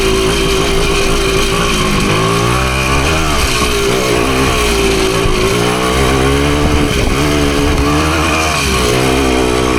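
A Husqvarna PE250 dirt bike engine runs loud and close on a trail, a steady rasping two-stroke drone that rises and dips in pitch with throttle changes in third gear.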